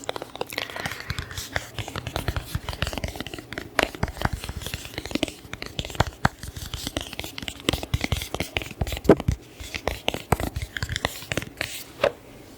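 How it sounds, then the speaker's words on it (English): Lenormand cards from a Healing Light deck being shuffled and handled up close, a steady run of crisp crinkly taps, slides and papery scratches with no talking. "So next I would like to pull some Lenormand cards."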